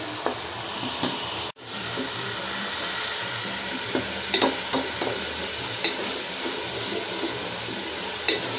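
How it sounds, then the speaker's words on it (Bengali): Chopped ripe tomatoes sizzle steadily in a hot pan while a spoon scrapes and stirs them in repeated strokes, with a constant hiss, occasional clinks and one brief cut-out of sound. "এটা ভালো করে কষিয়ে নেব যতক্ষণ না পর্যন্ত আপনার কাঁচা গন্ধটা চলে যায়"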